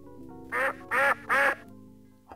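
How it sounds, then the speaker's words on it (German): Three loud, evenly spaced duck quacks ring out in the Sam & Max Hit the Road adventure game, each short and nasal, over a faint background hum. "Wo kommt ein Entengeräusch her?"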